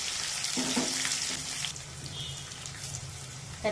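Onions frying in a pan for Telugu-style pesara pappu (green gram dal), a steady soft sizzle with some light stirring, moderately quiet and heard alone without talk.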